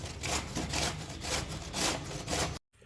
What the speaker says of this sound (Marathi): दोडक्याची चटणी बनवण्यासाठी आपण दोडका किसून घेऊ.